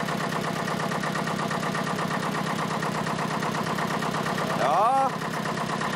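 A tractor engine idles and rumbles steadily up close as it creeps slowly forward to take up slack in a tow chain, with a brief rise in revs near the end and a short spoken reply over it.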